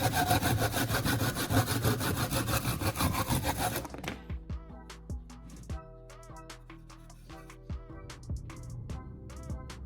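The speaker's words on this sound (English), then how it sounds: "The saw glides through the wood effortlessly, leaving a clean, smooth cut in a fraction of the time it took before." A homemade razor-sharp hand saw cuts wood, its dense rasping strokes continuous for about four seconds, then stopping and giving way to sparse sharp clicks and knocks, with no talking.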